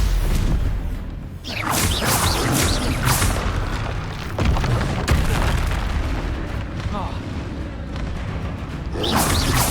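Spell effects from Hogwarts Legacy, with fire-blast Confringo and stunning Stupefy casts, come as repeated booming whooshes and impacts in a dense, loud stream of combat sound, with a few swishing bursts standing out above the rumble.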